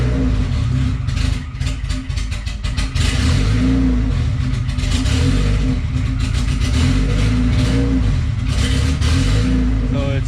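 A freshly built car engine on its first start runs rough and won't settle at idle, a loud, uneven, lumpy drone with ragged clattering pulses lasting throughout, with no talking.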